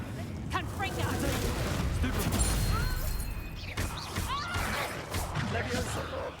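Spell blasts from a Harry Potter video game, a fiery Confringo burst amid rapid crashing impacts and combat effects, loud and dense throughout, with someone talking over the action.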